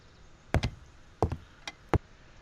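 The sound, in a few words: creaky floorboards in the video game Serena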